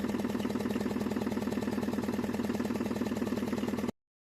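A tractor engine runs steadily with a low, pulsing throb and even mechanical rhythm, close and continuous for about four seconds before cutting off abruptly.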